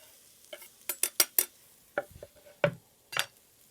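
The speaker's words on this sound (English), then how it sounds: "I'm going to put this into the pot now with the onion and the celery root." Chopped vegetables with onion and celery root tipped into a soup pot for a bean and tomato vegetable soup, heard as a quick run of close, sharp clatters and scrapes, then a few separate knocks.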